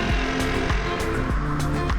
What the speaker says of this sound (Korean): 주차를 하려는데 차들이 자꾸 지나가네